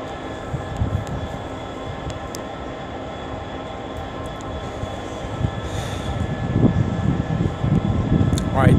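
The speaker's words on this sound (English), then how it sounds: "getting ready to depart is going to be the 1327 London Northwestern Railway service and crew to London Euston" A London Northwestern Railway passenger train departs Rugby station on the West Coast Main Line bound for London Euston, a steady low rumble that builds toward the end, with someone talking over it.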